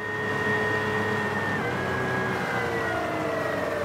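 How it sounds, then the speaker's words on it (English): A 48 volt electric outboard motor running on a boat, a steady whine with tones that slide slightly in pitch, continuous and fairly loud over wind and water noise. "Motor's running really well"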